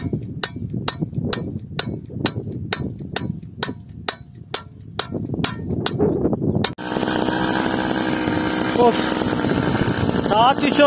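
A motorized scythe, a power brush cutter, runs steadily while cutting grass on a mountainside, loud and close with a sharp regular ticking rhythm, then shifts to a broader engine drone partway through.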